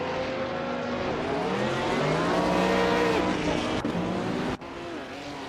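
Race cars roaring past in a competitive race, a loud continuous engine drone with rising and falling pitch sweeps as cars overtake, sustained and close with a brief drop near the end.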